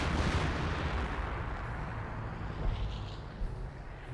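Continuous rumbling artillery fire and distant impacts from Hummel self-propelled guns in the WWII strategy game Company of Heroes, a dense low booming barrage with a few sharper peaks, steady and fairly loud throughout.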